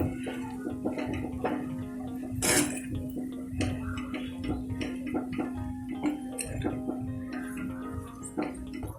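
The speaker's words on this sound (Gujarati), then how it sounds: "હવે બધું જ બરાબર મિક્સ કરી લઈએ।" Potato stuffing for samosas is mixed in a pan with soft scraping and light clinks of a utensil over a steady low hum, close and moderate in volume, with some talk in the background.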